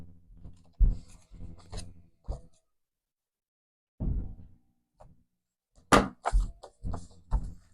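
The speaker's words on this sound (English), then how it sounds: "I'll just cut off the excess here." Scissors cutting off the excess of an index card, a series of short crisp snips in uneven bursts with quiet pauses between, close and fairly faint.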